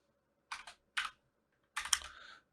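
Short bursts of close, crisp keystrokes on a computer keyboard while typing C# code, three quick clusters of clicks separated by silence.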